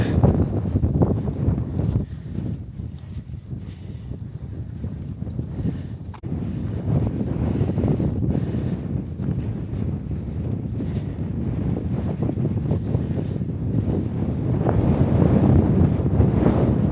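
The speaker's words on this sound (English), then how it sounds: "It's too windy to faff about with it on the top of a mountain." Strong wind on a mountain top in Snowdonia roars and buffets steadily against the microphone for the whole stretch, a dense rumbling blast that swells slightly toward the end.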